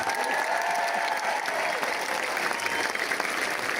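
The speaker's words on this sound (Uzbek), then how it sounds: "bitta chiroyli qarsaklar bilan olqishlab qo'yamiz." A symphony concert audience at the International Flower Festival in Namangan claps steadily and evenly, a full, sustained wash of applause with no break.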